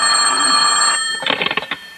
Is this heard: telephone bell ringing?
yes